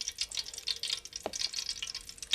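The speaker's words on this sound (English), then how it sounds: "Oh, you can hear it frying." Bite-sized hush puppies fry in hot oil, a close crackling sizzle full of rapid pops and spits, with a brief utensil scrape midway.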